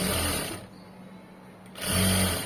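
A sewing machine stitches fabric at a tuck, running loud and close in a fast whirring burst, pausing for about a second, then starting again.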